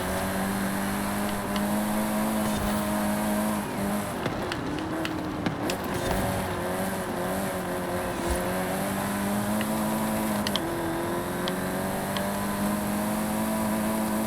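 A rear-wheel-drive drag car in a racing game revs at full throttle, a steady loud engine drone with rising and shifting pitch throughout, no talk.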